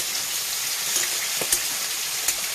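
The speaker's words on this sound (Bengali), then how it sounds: "আর এখানে আমি করলাটা ভাজা দিয়েছি" Bitter gourd (karela) slices fry in hot oil in a pan, giving a steady, close hiss of sizzling with a few sharper pops and crackles over the spattering.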